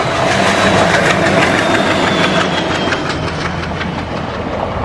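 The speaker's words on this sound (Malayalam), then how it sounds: "ദൂരെ ദൂരെ ഒരു തീവണ്ടിയുടെ ചൂളം വിളി അടുത്തു വന്നു അത് കൂടുതൽ ഉച്ചത്തിലായി പാളങ്ങൾ വിറച്ചു" A train draws near on its rails with a loud, continuous engine rumble and repeated clatter, a thin whistle-like tone running faintly above it, and no voices.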